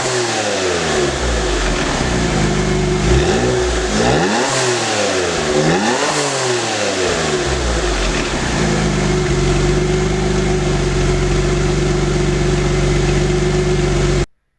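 A Noble M12 GTO-3 fitted with a new exhaust valve idles with a deep, steady burble, then takes several sharp, close revs that rise and fall before settling back to a throaty idle.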